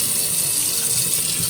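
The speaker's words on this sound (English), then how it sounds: "There's some cold running water here." Cold water runs steadily from a kitchen tap, a continuous close gushing hiss with no breaks and no voices.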